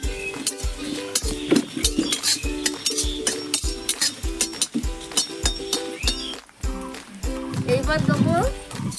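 Dried red chillies are stirred in a pan while dry-roasting spices for a Bengali-style sweet-and-sour mango pickle, giving rapid rhythmic metallic clinks of the utensil against the pan, under music and a talking voice.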